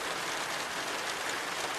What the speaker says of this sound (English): the downpour was getting heavier